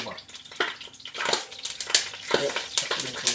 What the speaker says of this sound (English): put in some water in the pan